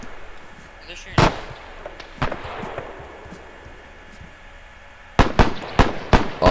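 Bursts of machine-gun fire in a WWII video game, aimed at an anti-tank gun: a sharp shot, another a second later, then a rapid cluster of loud cracks near the end over a faint background rumble.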